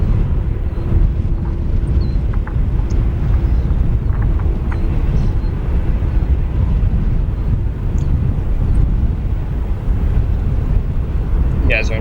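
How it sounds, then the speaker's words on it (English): A Turkish Airlines Boeing 787 Dreamliner taxis at O'Hare airport: a constant heavy low rumble of jet engines with wind noise on the microphone, steady throughout and fairly loud. "Taxiing in front of it, we have Turkish Airlines Flight 185,"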